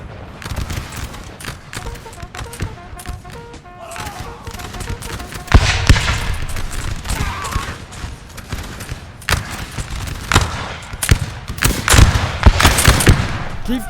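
Musket volleys crackle in a Napoleon Total War recreation of the 1806 Battle of Czarnowo, dense overlapping rippling fire with heavier booming bursts, continuous and loud throughout.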